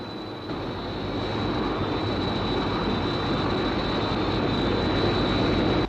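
Jet aircraft engine roaring steadily in flight as a sci-fi TV series effect, a loud continuous drone with a high whine, holding for the full six seconds with no voices.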